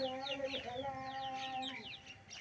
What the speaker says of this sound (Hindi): ये काली मुर्गी बहुत प्यारी है जी